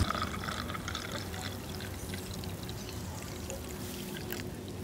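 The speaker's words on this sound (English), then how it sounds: "And then let us pour the juice now." Pomegranate and June plum juice pours steadily into a glass for a plantain breakfast, a soft continuous liquid trickle heard close up over faint background noise, with no talking.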